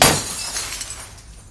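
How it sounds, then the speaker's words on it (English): A drinking glass smashes loudly right at the start in a home kitchen, with a bright shatter that tails off into scattered tinkling fragments. "You've just thrown a fucking glass at my head!"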